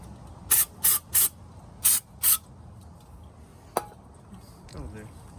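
Brake cleaner sprayed onto car brakes during a DIY brake job: five short, loud hissing bursts in quick succession, then a faint click and a quiet background with brief talk.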